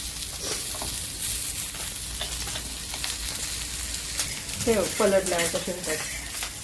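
Mixed lentil and rice batter ingredients roasting in hot oil give a steady low sizzle throughout, with a brief burst of stirring and clatter near the end.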